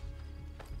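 A brief snort from a horse in Assassin's Creed II over a low, steady rumble, with a soft clop near the end.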